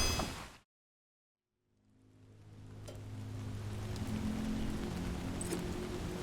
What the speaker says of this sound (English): I didn't know this game had rain.